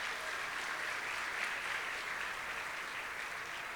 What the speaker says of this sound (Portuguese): uma salva de palmas, vamos ficar em pé